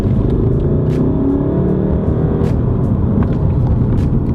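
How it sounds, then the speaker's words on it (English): A 2015 Volkswagen Golf diesel with a DSG gearbox accelerates, its engine note rising in a steady, loud rumble heard from inside the car, with a brief shift break along the way. "you obviously heard then as well, it's got quite a nice sound, which is rare for a diesel"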